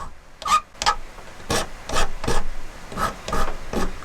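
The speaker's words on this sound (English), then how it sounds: "I'll file that also." A metal file rasps in repeated strokes across a knife handle piece held in a vise, close and distinct, each scraping pass separated by short pauses in an irregular rhythm.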